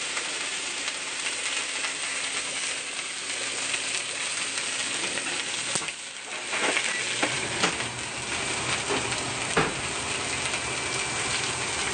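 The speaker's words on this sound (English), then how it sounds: "as you hear that sizzling sound coming off, that's the juices from the steak being vaporized by the heat" Steaks sizzle in a hot pan with a steady, bright hiss of juices vaporizing, a brief dip midway followed by crackling spikes and pops.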